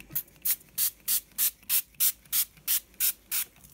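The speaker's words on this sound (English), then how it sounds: "Just give it a good spray." A series of short, sharp bursts of baby oil spray, about ten in a steady rhythm, each a brief hiss with quiet gaps between them.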